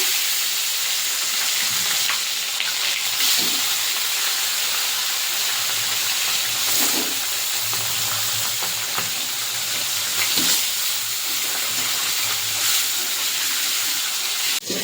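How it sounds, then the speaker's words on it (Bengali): Pieces of tilapia sizzling steadily in hot mustard oil in a pan, a loud continuous hiss and crackle with occasional louder spits and pops, and no one speaking. "এবার মাছটা ভেজে নেব।"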